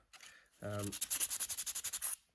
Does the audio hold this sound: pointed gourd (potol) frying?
no